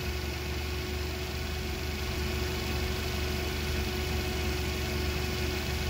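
A Toyota engine idles after a long cranking start, giving a dense, constant drone with a steady hum running underneath, close and unchanging throughout with no talk.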